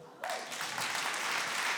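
A church congregation breaks into applause after a brief quiet moment, a dense wash of many hands clapping that swells and stays loud, with some voices mixed in.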